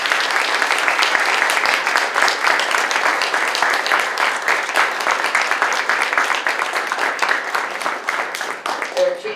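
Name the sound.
applause from audience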